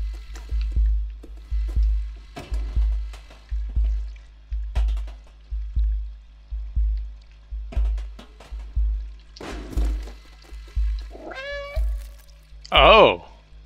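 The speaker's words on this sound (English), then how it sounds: "Oh, that's what the meow does." Steady rhythmic thumps like footsteps repeat, then two sharp, bright cat meows from the video game Stray ring out near the end, loud and close.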